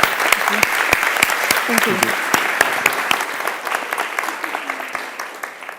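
Conference audience applauding in a hall, steady dense clapping throughout that tapers slightly toward the end, with a brief spoken thanks over it.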